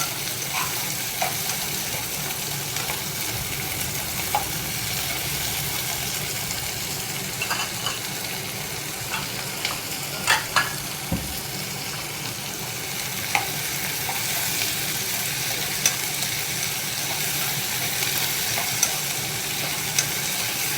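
Seasoning fries in a pan for buttermilk rasam with green chilli paste and ginger, a steady close sizzle with scattered pops and stirring clicks throughout, no voices over it.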